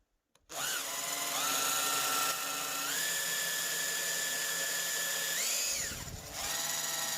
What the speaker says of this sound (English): So I've now got a centre drill. I'm going to just start off this hole.